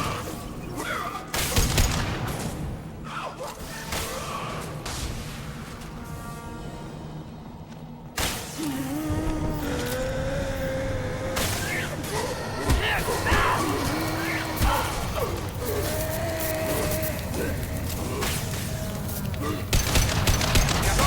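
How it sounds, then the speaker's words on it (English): A firefight in the video game Mass Effect 2, with sustained loud gunfire, booms and bursts of automatic fire over twenty seconds, under intermittent game voices calling out. "Taking fire."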